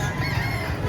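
Chickens cluck and call at a busy poultry market in Lipa, Batangas, a dense layered flock sound close by, continuous over the short moment with no voices standing out.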